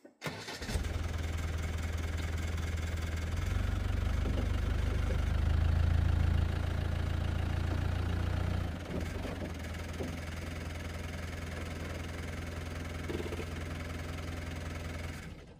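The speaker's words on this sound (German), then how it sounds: "Also werde ich heute mal zumindest ein kleines Stück auf die Rampe fahren." A camper van's engine runs steadily at a loud, close, deep rumble while it drives slowly up onto a ramp, then drops to a lower idle partway through and keeps running to the end.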